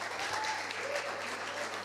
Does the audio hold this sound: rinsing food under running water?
no